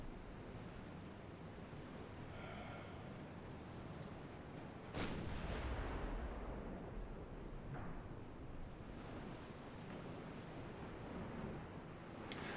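Naval guns of a warship boom in the video game Ultimate Admiral Dreadnoughts, one heavy blast rolling out midway over a steady wash of sea and wind noise, with fainter shots later and no speech.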